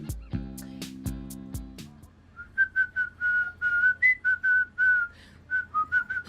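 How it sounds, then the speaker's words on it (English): A person whistles a short melody in clear separate notes after a few piano chords. The tune rises and falls in a steady rhythm, close and fairly loud. "whistle the theme song"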